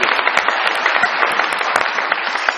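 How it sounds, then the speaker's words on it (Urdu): Studio audience at a Pakistani comedy talk show bursts into dense, sustained applause, a loud, even wash of many hands clapping with scattered sharper claps throughout, no voices above it. "بہت ساری تالیاں جی میرے نبیل کے لیے جی"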